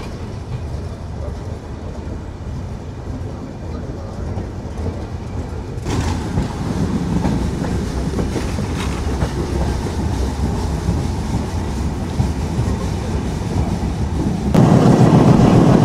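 The Tungipara Express, an intercity train in Bangladesh, passes by with a steady rolling rumble and rattle that swells louder about a third of the way in and grows heavier again near the end. No one speaks.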